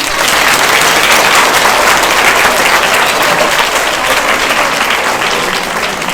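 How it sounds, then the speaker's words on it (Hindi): Schoolchildren and audience at a school session clap loudly for a maths teacher, a dense, continuous burst of applause sustained evenly for several seconds with no speech over it. "पहले तो मीनाक्षी मैम के लिए तालियां हो जाए।"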